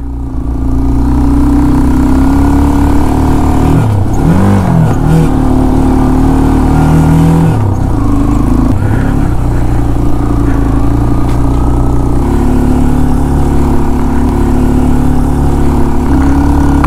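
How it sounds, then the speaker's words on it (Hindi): A car engine labours continuously in second gear up a steep mountain road toward Ganga Choti from Sudhan Gali, a loud, close, droning hum with slight shifts in pitch and load, alone with no talking. "काफ़ी हाइट पे जा रहे हैं तो सेकंड गियर में ही जाना पड़ रहा है"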